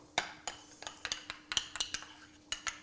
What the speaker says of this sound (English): I'm using some chipotle hot sauce that I'm going to mix with this